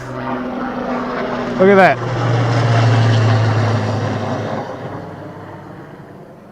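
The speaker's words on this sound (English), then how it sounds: "I can hear a helicopter. Like right overhead." A helicopter flies low, directly overhead, in the open outdoors of the Pacific Northwest, its roar swelling and then slowly fading over several seconds while a person talks briefly.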